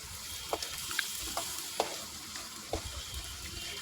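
Small shrimp fry in a pan with a soft, steady sizzle, broken by a few short clicks and scrapes of stirring, faint and with no talking.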